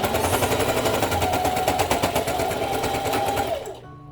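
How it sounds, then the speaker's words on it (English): A domestic sewing machine stitching lining and fusible fleece runs in a fast, even mechanical chatter, close and loud for several seconds before stopping abruptly. "lower your presser foot again, and continue sewing"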